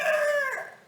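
A single chicken gives a short, close, loud squawking cluck-crow that slides downward and fades within a second, with no other sounds.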